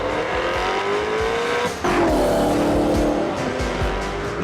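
Alfa Romeo Disco Volante sports car with a light carbon fibre and aluminium body, engine loud and close as it accelerates hard, rising in pitch, with a gear change and tire squeal partway through.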